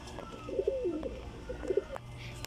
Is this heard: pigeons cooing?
yes